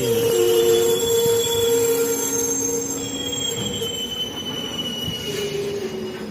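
Wheels of the Kacheguda–Yelhanka Prashanthi Nilayam express squeal loudly and without a break as the coaches roll slowly near Guntakal at night, with several shrill tones rising and falling over a low rumble and no voices.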